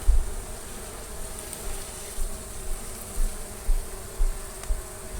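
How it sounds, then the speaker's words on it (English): Honey bees buzz in a steady dense drone during removal of a hive from under a house, loud and close, with soft low thumps now and then beneath the hum. "It's covered with bees."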